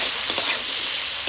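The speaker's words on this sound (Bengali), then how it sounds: "একটু সময় ধরে ভেজে নেব।" Vegetables with a whole chilli and salt sizzle and fry steadily in a pan for a dal, stirred now and then, a dense continuous hiss close up.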